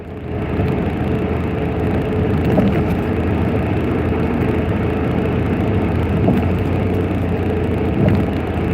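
A car driving along a road during an outbreak, giving a steady, close engine and road rumble that holds evenly throughout with faint thumps, no talk.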